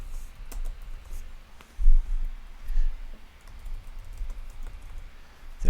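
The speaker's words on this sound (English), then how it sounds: "If I could type, that would be nice." Fingers type on a computer keyboard at a desk, a soft, uneven patter of key clicks with a few louder taps, steady throughout and close by with no voices.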